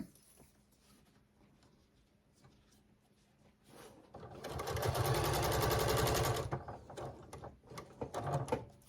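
A sewing machine stitches around a fabric pot holder made from recycled clothing scraps. After quiet handling, it runs in a close, steady mechanical whir for about two seconds, then stops and gives way to light clicks and rustling.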